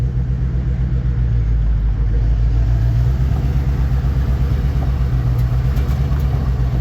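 A 1954 Chevy 3100 pickup with an unwelded rear end rolls along in first gear, its engine a loud, steady low rumble close by with light throttle and no voices.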